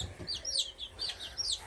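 Baby chicks in a flock give repeated high chirps and soft clucks in quick clusters, moderately close but faint, with low background rumble.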